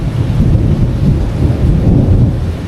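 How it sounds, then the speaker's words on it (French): Heavy thunder rumbles low and continuous throughout, with rain hissing underneath, like a storm passing close overhead in South Africa. "Il y a un orage de malade."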